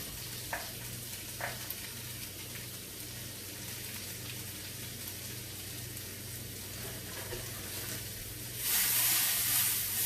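Onions and sesame seeds sizzle in a hot pan in a steady frying hiss with a couple of light clinks, swelling louder near the end.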